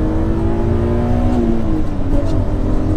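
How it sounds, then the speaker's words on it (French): A BMW Z3M engine on its stock exhaust runs loud and steady, a deep throaty drone with rising and falling harmonics as it pulls, without any talk. "Écoutez un peu cette sonorité, et ça c'est l'échappement stock"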